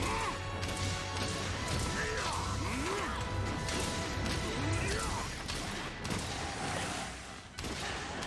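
Sustained shrapnel gunfire from a bowgun in Monster Hunter Rise, a dense, steady barrage of crackling bursts and impacts running throughout amid busy game effects and music.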